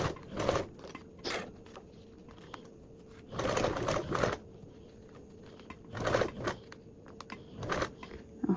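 Home sewing machine stitching a quilted bag with a quarter-inch seam, short loud bursts of rapid needle chatter separated by quiet pauses and faint handling clicks.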